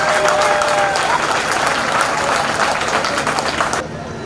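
An audience at a mushaira poetry event in Lucknow bursts into loud, sustained clapping that fills the hall, then cuts off sharply just before the end.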